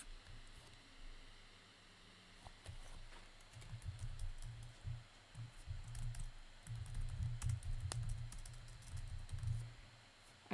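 Quiet typing on a computer keyboard during a drawing session, soft irregular key taps in short bursts, close but faint, with a low hum underneath.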